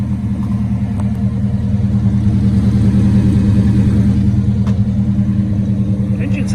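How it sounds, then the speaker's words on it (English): A 1964 Studebaker Gran Turismo engine idling close by, a steady, strong low rumble with a slight rise in revs, continuous and alone throughout. "Engine sounds very good."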